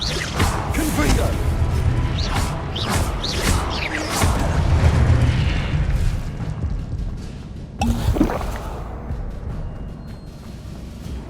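A Confringo fire-blast spell in Hogwarts Legacy on PS5, heard as a series of whooshing bursts and booming impacts amid game effects, with a loud crashing hit near the end and a voice calling out spell names.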